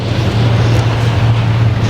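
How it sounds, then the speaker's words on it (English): A farm tractor hauling harvest wagons rolls past on a rural Wisconsin road during harvest season, a steady low engine drone with broadband rumble held at a constant loud level throughout, no voices. "out on the road there's a tractor with some wagons going by"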